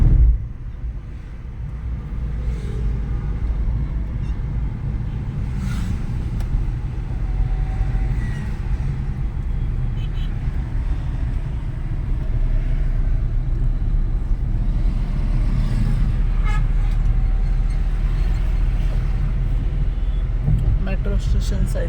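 Dense road traffic on Hosur Road by Electronic City, Bangalore, beside a flyover and metro line, with a continuous engine rumble and scattered horn-like tones rising and falling throughout.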